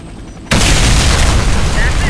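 A bomb detonates in the Warface video game, a sudden loud boom after a brief quiet moment, followed by a sustained roaring rumble that holds at full loudness to the end.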